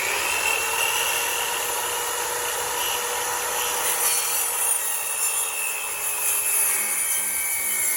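A power saw cuts wood for an aquarium stand, giving a steady, loud high-pitched whine and rasp that holds continuously and close throughout, with no talking.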